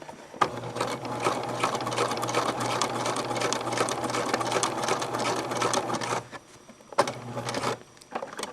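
A sewing machine stitches an X across a box on fabric, running fast and steadily for about six seconds, pausing briefly, then giving a short final burst close up.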